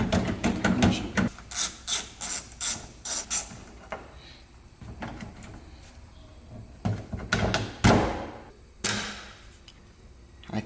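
Prying at a car door trim panel on a BMW E34, with a run of sharp scraping and creaking bursts, irregular and close, separated by short quiet gaps.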